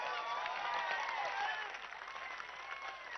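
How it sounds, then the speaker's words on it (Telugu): Large crowd applauding at an outdoor political rally in Andhra Pradesh, a dense, steady wash of clapping with scattered whistles and cheers that holds loud throughout, easing slightly toward the end. "ఒక్కసారి చప్పట్లు కొట్టగలరా?"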